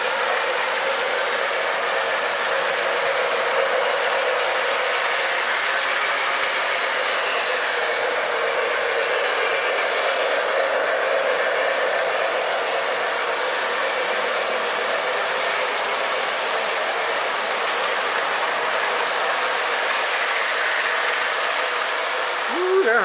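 A continuous, even rumble and clatter of a Lionel 2-6-0 Milwaukee Road model train running along track, steady in level for the whole stretch with no pauses.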